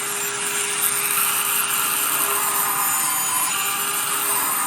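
A rotary carving tool fitted with a cone bit cuts into a wooden expressions board, giving a steady, loud high-pitched whine with a constant motor tone and rough grinding hiss, continuous and close with no talk.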